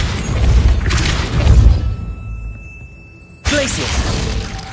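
A Depulso spell effect in a Harry Potter video game: loud crashing, shattering bursts that fade into a brief lull before another forceful blast hits, with a voice speaking over the din.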